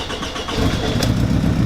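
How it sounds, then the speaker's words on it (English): 2002 Toyota Camry engine cranking and catching, then running steadily at a loud, close idle with a rough, rumbling tone. "it literally just started right back up"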